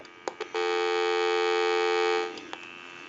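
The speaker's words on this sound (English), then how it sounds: "Go ahead and give you some dial tone" A steady, continuous telephone dial tone through an AT&T 530 telephone hums for about two seconds, bracketed by a few short clicks.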